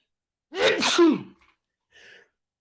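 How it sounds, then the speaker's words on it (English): A single loud, close human sneeze with a sharp intake and burst, followed after a short pause by a faint trailing sniff or exhale. "I'm going to sneeze again"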